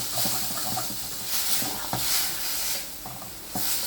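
Close sizzling of mutton frying with gongura leaves in a pan, with repeated scraping and stirring knocks at an uneven rhythm.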